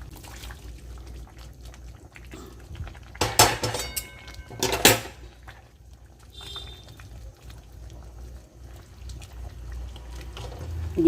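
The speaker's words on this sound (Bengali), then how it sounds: "দিয়ে একটু নাড়াচাড়া করব।" Chicken patiala in a pot being stirred after fried onion and capsicum go in, with two bursts of metal spoon clanking against the pot over a low background hum and quieter scraping.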